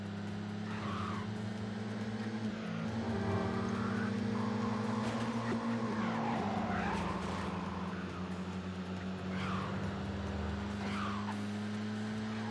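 A BMW's engine roars steadily through a street race in Midnight Club 2, holding a loud, sustained drone with gear-shift changes in pitch, faint tire skids and passing traffic.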